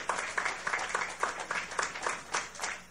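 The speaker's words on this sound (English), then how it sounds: "So let's give them a round of applause." Applause at a Diwali celebration in Trinidad and Tobago after a band's performance, heard as a thin, scattered round of clapping with distinct rhythmic bursts, fairly quiet and a little distant.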